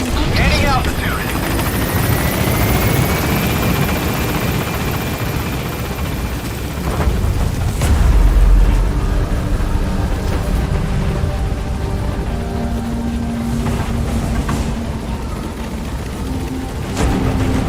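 Metal Gear Solid V helicopter B-Quad taking off, a loud steady rotor roar building and holding throughout, with a radio voice talking over it.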